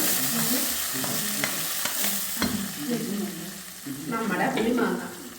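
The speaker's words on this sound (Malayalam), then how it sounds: "നമ്മൾ കടുക് താളിക്കാൻ പോവുകയാണ്" Mustard seeds crackle and sizzle in hot oil with sharp popping bursts and stirring scrapes, loud and close.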